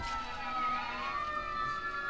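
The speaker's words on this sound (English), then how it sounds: "anytime there's something going wrong, we get the wee-woo wagons going by." An emergency vehicle siren passes along a main town avenue, its tone rising and sweeping steadily at moderate distance over faint traffic noise, with no talking.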